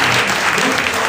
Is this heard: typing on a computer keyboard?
no